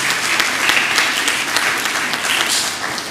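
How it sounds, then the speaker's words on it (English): Applause for Maud Cross Preparatory School at a medal ceremony of an inter-primary school championship: steady, dense clapping from a crowd, loud and continuous without talk. "let's give Maud Cross Preparatory School a round of applause"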